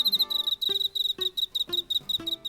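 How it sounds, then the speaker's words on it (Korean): A cricket chirps close and loud in a steady run of quick, pure-toned pulses, grouped in regular bursts roughly every half-second. "귀뚜라미 노래는 마치 피아노의 건반 하나에서 나오는 소리처럼 순음에 가깝습니다"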